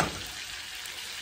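A strip cheese quesadilla fries in a pan with a steady, close crackling sizzle, dense and continuous with no voices.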